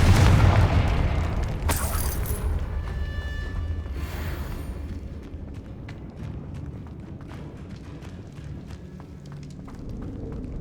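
In the Hogwarts Legacy video game, a Confringo spell bursts in a deep boom at the start, followed by scattered small thuds and footsteps as the rumble fades.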